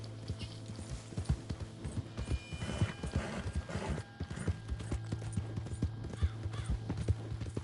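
Horse hooves clip-clop at a steady trotting rhythm in Red Dead Redemption 2, close and moderately loud over a low background drone with faint creaks of tack.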